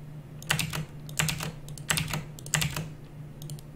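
Keys clack on a computer keyboard in short bursts of rapid strokes, four clusters spread across a few seconds over a steady low hum, with no one speaking.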